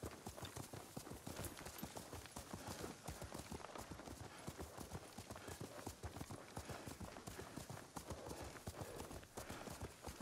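Horse hooves clip-clop steadily and close in the samurai video game Ghost of Tsushima, a continuous rapid rhythm of hoofbeats filling the whole stretch.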